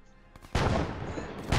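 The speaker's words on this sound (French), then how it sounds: "Artillerie!" Artillery fire in a WWII game opens with a faint thud, then a loud, close blast that rumbles on, followed by another burst at the end.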